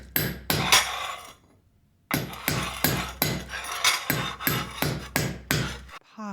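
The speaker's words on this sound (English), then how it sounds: "It's workers making bricks from clay and straw and shaping stone for the walls." Hard tools strike and chip stone in a steady series of sharp, ringing blows, near and loud, with one brief pause, as workers shape stone and make clay-and-straw bricks for walls.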